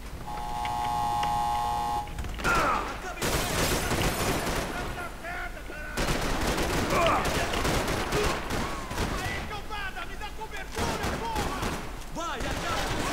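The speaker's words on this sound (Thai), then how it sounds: "ยิงกันมันเลยนะ" Gunfire in the video game Max Payne 3: dense bursts of rapid shots and fusillades crackle loudly across the scene, broken by brief pauses, with someone talking excitedly over the shooting.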